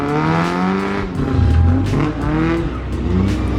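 A Mk2 Ford Escort fitted with a swapped Toyota engine drifts sideways. The engine drones loudly and rises and falls, with tyre squeal mixed in, steady and close throughout.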